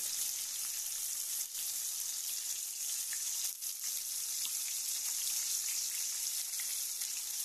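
Carp fillets fry in oil in a pan, giving a steady, dense sizzle with continuous crackling and a few brief dips, close and alone without talk.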